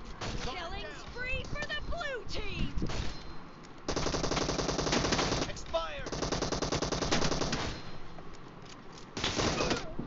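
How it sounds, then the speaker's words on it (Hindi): Rapid Kar98 rifle shots in PUBG Mobile, fired in dense bursts mixed with other gunfire, loud and close, with a voice talking over parts of it. "अभी ये बहुत मार रहा है कार 98 से"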